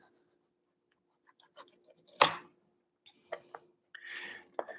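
A knife slicing through toasted bruschetta bread topped with a sun-dried tomato herb mix: one sharp crunchy cut stands out, followed by softer scraping and crackling crumbs, close and fairly quiet.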